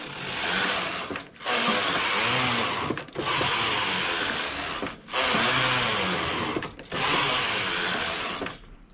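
Knitting machine carriage sweeping back and forth across rows of wool yarn, four loud mechanical passes each about two seconds long, separated by brief pauses at the row ends, with no talking.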